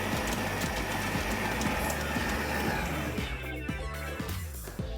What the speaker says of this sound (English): place it straight into a mixer, but make sure you use a paddle, not a whisk